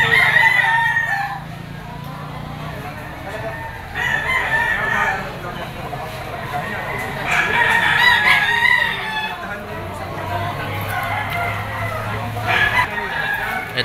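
Gamefowl roosters, including a sweater bull stag, crow repeatedly amid clucking at a busy Lipa auction market, several loud cock-a-doodle calls rising over crowd murmur and background voices.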